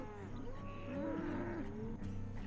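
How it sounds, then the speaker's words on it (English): Bred heifers moo while a ranch team moves them into a new pasture. Several overlapping, drawn-out bovine calls rise and fall close by over a low outdoor rumble. "their team of 4 has to move 30-some bred heifers into a new pasture"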